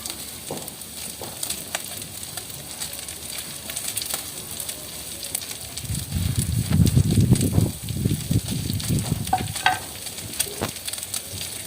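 Chopped carrots hit a hot pan for a sandwich filling, and a loud sizzling burst swells up as they land. Scraping stir-fry strokes and crackling frying continue around it, close and busy, with no voices.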